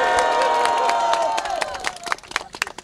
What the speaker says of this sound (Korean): 박수 한 번 더 보내주십시오